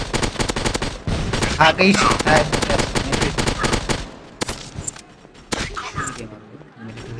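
Rapid gunfire in a modern shooting video game, dense bursts of automatic shots crackling over several seconds, then sparser single reports, with a player's excited voice talking over it.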